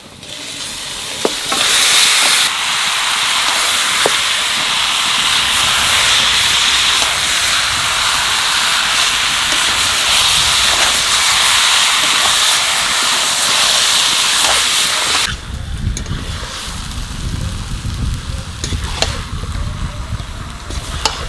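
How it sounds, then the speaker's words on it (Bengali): Mutton hitting a pan of fried onion and garlic for a Bengali mutton curry, a loud steady hissing sizzle that holds for about fifteen seconds, then drops to a lower, rougher frying crackle. "পেঁয়াজ রসুন ভাজা হয়ে গেছে, এখানে মাংস দিয়ে দেবো।"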